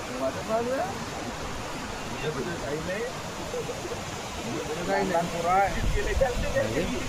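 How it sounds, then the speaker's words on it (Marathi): A small waterfall makes a steady, broad rush of falling water while several voices talk and shout over it, the water noise continuous and moderately loud throughout. "चांगला वॉटरफॉल ते पण लहान पोरं जबरदस्त आहे ना"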